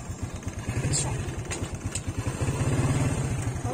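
A motorcycle engine putters steadily in a fast, rhythmic chug close by, with scattered voices talking over it.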